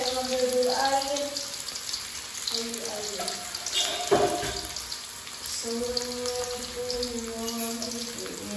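Tap water runs steadily into a container at a home, a continuous splashing hiss throughout with faint voices and background tones beneath.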